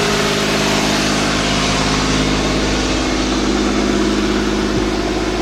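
A 2005 Chrysler 300 with a 2.7 engine that is overheating idles at close range, a loud, steady droning hum with even tonal rumble lasting the whole stretch, no voices.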